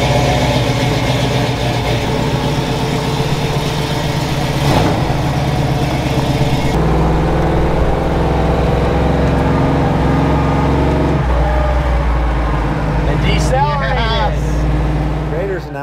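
The engine of a rat rod wrecker truck with a transmission problem runs continuously while it drives, rumbling and shifting through changes in revs. Other noises are heard nearby but no clear talk.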